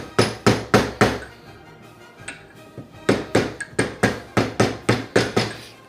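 Metal hammer strikes drive an oil seal into the fork of a Honda CG 125/150 motorcycle, ringing out as sharp, evenly spaced blows in two runs of about six, with a brief irregular pause between them.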